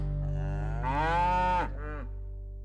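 A cow moos loudly once at a dairy farm, a long rising-then-falling call followed by a shorter grunt, over a steady low mechanical hum.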